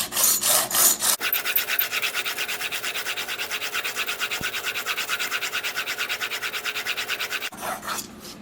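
Rapid, steady back-and-forth rasping of a knife blade stroked across an 800 grit sharpening plate, a dense rhythmic scrape running for about six seconds between brief pauses, close and fairly loud with no talking.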